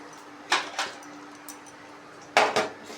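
Lid placed over a bowl of marinated chicken in a home kitchen: two pairs of light clinking knocks, one near the start and one near the end, with a quiet steady hum underneath.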